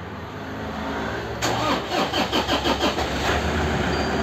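A donor car's engine cranks and catches at about 1.4 seconds, the starter's pulsing churn giving way to a steady idle, heard close and alone while the car is readied to jump-start a weak battery.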